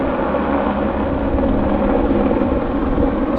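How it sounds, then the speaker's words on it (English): Steady, loud broadband buzz of a helicopter near Vancouver airport, a continuous drone without breaks. "And that helicopter is buzzing,"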